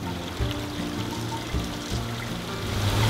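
A small, subtle stream runs through a temple garden on Fukuurajima Island, Matsushima, a soft steady trickle and burble of water under a continuous low outdoor hiss, faint and close-by.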